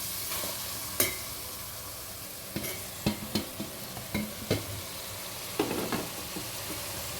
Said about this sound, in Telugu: సొరకాయ మంచిగా కలుపుకొని దీంట్లో ఇప్పుడు టమాటా వేసుకుందాం.